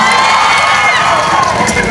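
Pageant audience at the Queen of Baclaran 2024 national costume segment, a loud, dense roar of cheering and shouting voices, high-pitched whoops riding over a sustained crowd wash close by.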